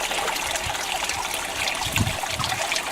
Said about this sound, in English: It's just pushing out whatever's left, and it'll stop completely, and the water rise back up.